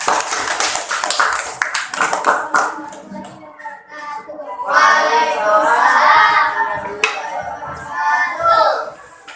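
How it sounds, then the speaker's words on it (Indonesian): Classmates in a mathematics class applaud a student group, brisk rhythmic clapping at first, then children's voices and chatter take over with a few more claps mixed in. "Tepuk tangan dulu buat kelompok 3"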